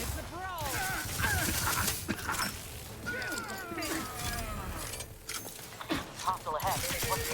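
Gunfire erupts in The Outer Worlds 2 video game, with bursts of shots and clattering impacts mixed with whooshing effects and in-game voices over a busy background.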